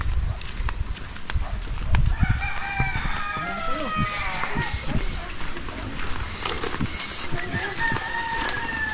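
Chickens near tomato plants by a fishpond, with a rooster crowing and hens clucking in short repeated calls at moderate distance, mixed with scattered outdoor knocks and rustling.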